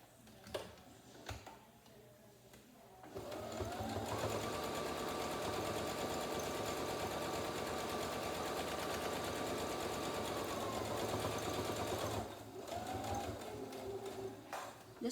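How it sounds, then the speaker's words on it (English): A sewing machine stitching around the edge of a fabric face mask, a fast steady motor whir with rapid needle ticking that runs for about nine seconds, close and moderately quiet, with brief handling sounds before and after. "go all the way around the edge with another stitch"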